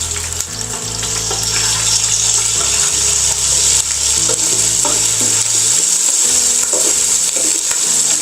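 Ginger garlic paste fries in an oil-filled pan while cooking biryani, giving a loud, steady sizzle with occasional stirring scrapes throughout.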